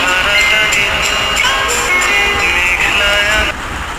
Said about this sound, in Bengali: বৃষ্টি, মেঘ ডাকছে